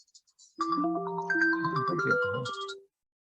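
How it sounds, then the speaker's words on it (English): A mobile phone's melodic ringtone chimes through a short sequence of tones during a museum conservation lecture, fairly clear and alone, then stops. "Beg your pardon, that might be my phone."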